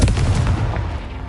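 A Confringo spell explosion in Hogwarts Legacy, a loud, close, booming blast with a heavy low thump that rolls and fades over about a second.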